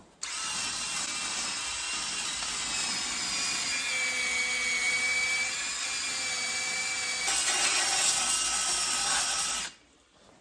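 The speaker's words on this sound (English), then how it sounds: "So I'm just going to kind of go around this, clean all this old corrosion and rust off as best I can." Steady, loud high-pitched grinding from a power tool scrubbing corrosion and rust off an aluminum wheel knuckle on an Infiniti Q50. It runs continuously for about ten seconds, rises slightly near the end, then stops abruptly.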